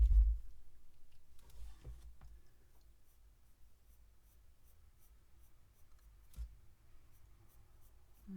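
Colored pencil skating very lightly over drawing paper while rendering a fox's eyes, producing faint, soft scratchy strokes at close range in a quiet room, with a few louder scrapes and taps.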